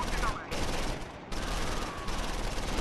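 Sustained bursts of infantry small-arms and machine-gun fire from the World War II strategy game Close Combat IV, set at Simmerath and Udenbreth, crackling loudly and continuously for a few seconds with brief gaps between volleys.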